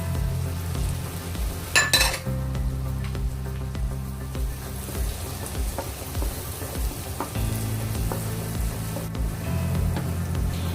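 Garlic sautés in a pan of leftover chicken frying oil, a steady close sizzle and crackle with a sharper clatter of stirring near the start.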